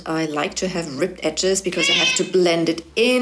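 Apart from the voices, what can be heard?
cat meowing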